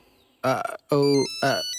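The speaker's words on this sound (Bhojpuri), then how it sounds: "केकर फोन है जी?" A telephone rings in three short melodic bursts, loud and close, with brief pauses between them.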